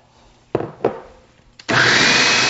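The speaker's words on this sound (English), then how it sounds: "We're just going to put this into the food processor." Food processor pureeing pumpkin for pumpkin pie bars: two short knocks of handling, then the motor starts and runs loud and steady, a dense whirring buzz through the end.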